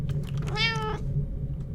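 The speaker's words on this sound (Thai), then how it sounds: "เจ้าแมวน้อย" A single clear cat meow from the Chilla's Art horror game The Kidnap, a drawn-out call of about half a second that rises and falls, heard over a steady low background hum with no talking.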